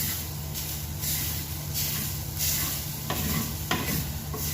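Turmeric and grated coconut dry roast in a frying pan, with continuous scraping stir strokes over a soft sizzle at close range and no voices.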